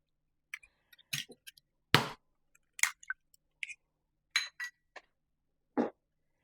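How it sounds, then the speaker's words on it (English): Two large eggs cracked into a mixing bowl for chocolate chip pecan cookie dough: sharp separate clinks and taps of shell against the bowl rim, then soft drops, close and clear against silence. "we're going to put in 2 large eggs"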